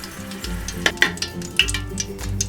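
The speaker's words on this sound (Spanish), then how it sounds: "para empezar vamos a cocinar los 6 dientes de ajo" Six garlic cloves frying in oil in a pan, a close crackling sizzle with sharp spits and pops scattered over it and a few utensil clicks, with no voices.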